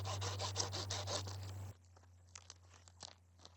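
Wood being stripped back by hand outdoors for a campfire, a close, dense rubbing and rasping scrape for under two seconds, then sparse small crunches and snaps over quiet ambience.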